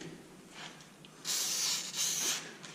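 An aerosol can of WD-40 sprays assembly lube onto engine piston rings during an LS turbo engine build, two close hissing bursts of about half a second each after some quieter handling noise.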